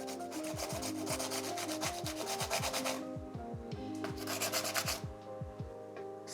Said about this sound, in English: I'm gonna buff the sides.